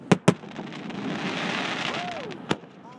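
Fireworks at a Christmas festival in Lake Arthur, Louisiana, give two sharp bangs and then a later single pop over a hissing crackle, heard outdoors at a moderate distance.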